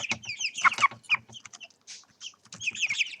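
Several chickens clucking and squawking close by in a short burst of agitated calls during a near scuffle, with a quieter pause midway before the excited clucks return.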